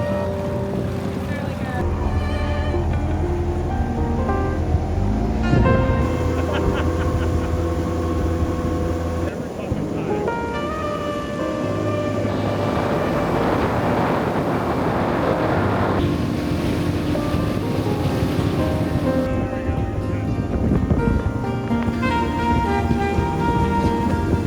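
A dinghy's outboard engine drones steadily as the boat runs across water, with wind buffeting the microphone and people talking and shouting over it.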